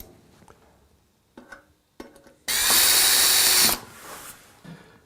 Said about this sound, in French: La deuxième étant posée, il suffit de la visser.